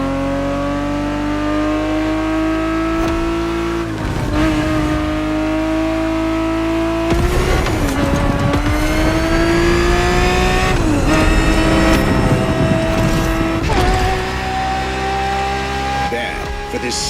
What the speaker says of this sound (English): 365 GTB4 is the perfect vehicle for you to experience Ferrari racing as it felt back in the 70s